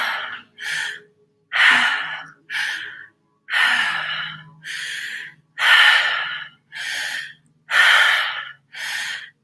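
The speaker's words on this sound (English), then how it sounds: "Breathing in fully and deeply and seeing this blue move in and out of us" Slow, deliberate breaths in and out during a breathwork session, about eleven close, airy rushes in an even rhythm, each followed by a short pause of silence.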